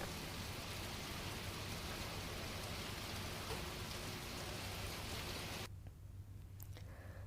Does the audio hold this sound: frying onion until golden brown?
no